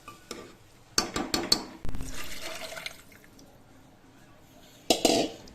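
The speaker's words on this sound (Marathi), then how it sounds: "मग पाणी टाकायचं" Water splashes and pours into a metal pot of sautéed dal with a few clanks, fading to quiet before a final short splash.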